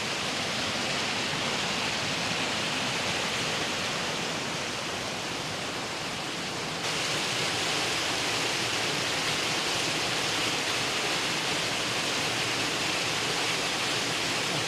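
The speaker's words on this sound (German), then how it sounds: "Ja, Freunde, ein schöner kleiner Wasserfall." Small waterfall on the Torrente Travignolo stream in the Dolomites, a steady, dense roar of falling water that fills the whole clip at an even, close level with no voices.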